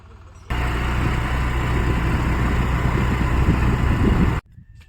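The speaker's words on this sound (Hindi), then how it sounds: "साइड में ट्रैक्टर है, वो खेती में काम कर रहा है" A tractor works in a farm field, its engine chugging at a steady, low, rumbling idle that starts abruptly, holds close and loud for about four seconds, then cuts off.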